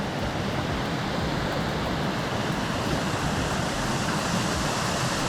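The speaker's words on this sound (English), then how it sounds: "What a waterfall!" Continuous broadband roar of the Talybont waterfall, steady and loud throughout with no pauses, a dense wash of falling water heard up close and alone.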